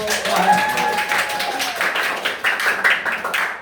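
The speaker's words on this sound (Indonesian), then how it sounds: "Tepuk tangan dulu untuk." Classmates in an Indonesian school classroom give a short round of applause for a group that has just presented, dense overlapping hand claps filling a few seconds with some voices mixed in.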